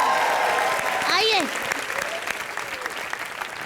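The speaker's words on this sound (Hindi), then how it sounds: "चलो तालियां बजाओ इसके लिए जोरदार" A studio audience at a live comedy show bursts into applause, a dense burst of clapping that carries on steadily, with a host speaking over it near the start.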